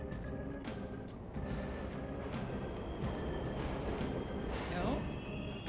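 Subway train in the video game Persona 5 Royal gives a steady, loud rumbling roar with faint metallic squeals, running continuously under people talking.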